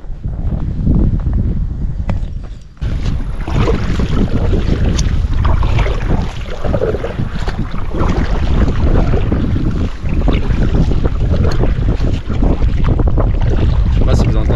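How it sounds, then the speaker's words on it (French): Strong, steady headwind roars and buffets against the microphone while kayaking on the Loire, loud and continuous, with faint water and movement noises beneath and no talking. "Le vent, il y a pas mal de vent qui souffle contre nous."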